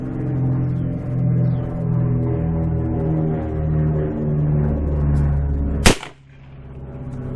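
A single sharp, loud gunshot from a Ruger Blackhawk revolver firing 40 S&W Federal HST rounds cracks out near the end, over a steady droning rumble in the background.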